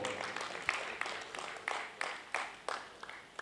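An audience at a kavi sammelan poetry recital claps for a poet. The claps are faint and sparse, with distinct individual sharp strikes at a loose, irregular rhythm.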